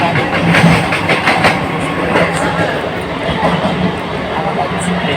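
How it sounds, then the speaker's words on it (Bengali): A moving train rumbles from inside a carriage with a continuous loud roar and a faint rhythmic clatter, while a voice speaks over the noise. "এখন ট্রেনে উঠে গেছি, অনেকদিন বাদেই বেশ ট্রেনে উঠলাম"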